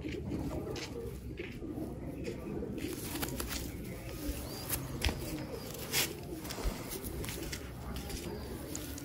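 Pigeons coo softly at a steady level against a broad rustling background, with brief louder chirps and a few wing flutters near the end.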